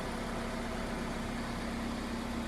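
Hyundai Creta 2.0 engine idling with the hood closed, a steady low hum with a constant tonal drone and no knocking, even and continuous throughout.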